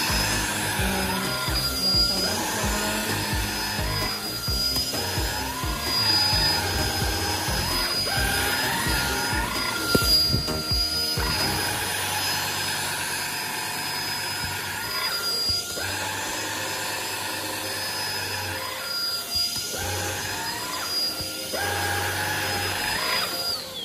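A Kurumi KV-0 cordless vacuum cleaner running continuously while cleaning a pillow, a loud, close whine with a shifting motor pitch and brief changes in load.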